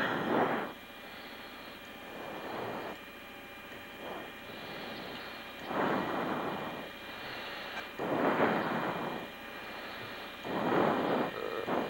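F-16 fighter jet in 1997, heard from inside the cockpit while approaching and landing: a steady engine and airflow roar with repeated rushing surges, loud and close, and no talking.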